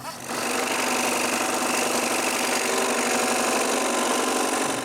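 A scroll saw cuts through wood while building a wooden cryptex, its motor giving a steady, loud, buzzing drone that runs without a break from start to finish.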